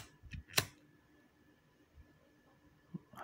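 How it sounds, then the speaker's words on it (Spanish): A lighter is flicked to light something, giving a couple of quick, faint clicks close by, followed by near silence and one more small click. "Con un encendedor la encendemos"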